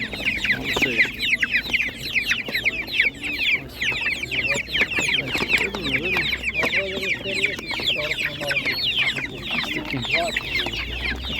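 A flock of Spanish naked-neck chickens at an animal market clucks and squawks continuously up close, overlapping calls filling the scene, with a person talking underneath.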